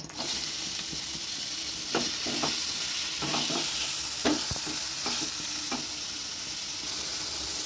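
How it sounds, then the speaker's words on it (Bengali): Chicken sizzles steadily in refined oil in a wok, a continuous close frying hiss broken by scattered scrapes and clacks of a spoon stirring the pieces, with no voices. "কড়াইতে রিফাইন তেল দিয়ে দিয়েছি। প্রথমে আমি চিকেনটা ভেজে নেব।"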